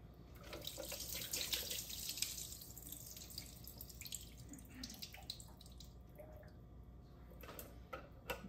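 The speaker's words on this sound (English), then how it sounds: "I'm just gonna rinse it a little bit and drain it one more time" Soaked walnuts rinsed under a running kitchen tap, a steady hiss of flowing water splashing into the sink, with a few drips and small clinks as the nuts are drained.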